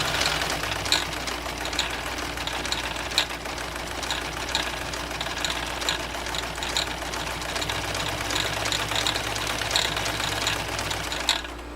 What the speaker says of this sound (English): all you can hear is my silly spool on top kind of jiggling around a little bit